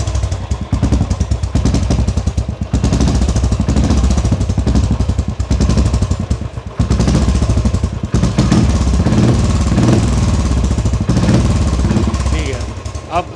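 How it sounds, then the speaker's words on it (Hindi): A Royal Enfield motorcycle fitted with a razor cut rooster silencer replica exhaust, idling and revving with a loud, rapid thumping beat and sharp crackle, close to the microphone and sustained. "अब इसको जो है हम लोग करते हैं स्टार्ट और सुनाते हैं इन लोग को रेजर कट की आवाज़, जिसको रूस्टर साइलेंसर भी कहा जाता है"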